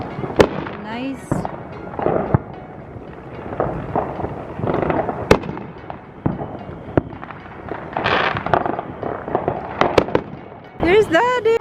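Neighbourhood Fourth of July fireworks crackle and bang in quick irregular bursts, some near and sharp, others farther off, while people talk and exclaim throughout.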